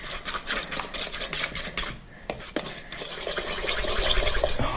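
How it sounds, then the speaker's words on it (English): Sourdough being mixed by hand in a bowl: steady, rhythmic scraping and sloshing strokes, close and moderately loud, with a brief pause midway before the mixing resumes. "Give it a very good mixing here, very important."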